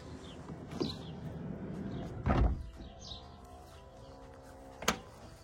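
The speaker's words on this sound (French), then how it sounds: "quand vous fermez cette porte, écoutez bien" A sliding door on a 2022 Globecar Globescout Elegance camper van draws itself shut with a soft-close lock, giving a muffled low thud partway through, with faint knocks and light clicks around it in a quiet setting.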